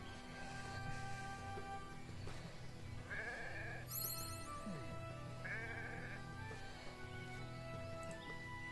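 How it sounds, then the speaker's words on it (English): Sheep in the video game Renowned Explorers bleat several times, the calls rising over steady game music with no talking. "You stinking weirdo sheep."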